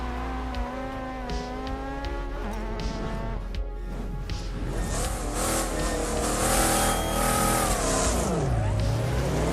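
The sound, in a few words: racing car engines from a mobile racing video game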